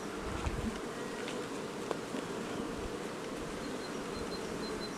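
Bees buzz steadily in a low, continuous drone at a shaded hive entrance, fairly faint and even throughout, with no voices.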